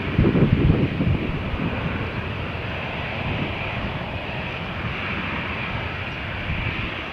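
Airliner taking off from runway 13 at Malaga Airport on a stormy morning, a broad loud engine roar with wind noise, strongest at the start and then holding steady as it rolls away.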